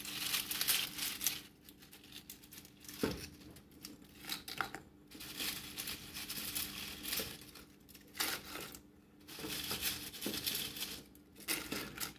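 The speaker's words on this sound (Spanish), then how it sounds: "Ahora aquí le voy a agregar los totopos." Tortilla chips (totopos) tipped into a pan of green chilaquiles, producing bursts of dry crinkling and crunchy rustling that come and go in waves, close and moderately quiet, with no talk.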